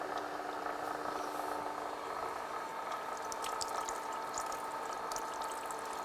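Coolant streams steadily onto the work on a milling machine, giving a continuous, even watery hiss with faint mechanical ticking underneath, low in level throughout.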